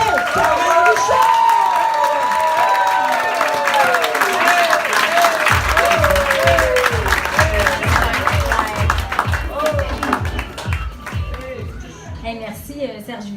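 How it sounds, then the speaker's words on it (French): A theatre crowd applauds and cheers loudly for a French stand-up comedian. Whoops and shouting voices ride over the dense clapping, and a rhythmic thumping beat joins about halfway through before everything eases slightly toward the end. "On applaudit bien fort."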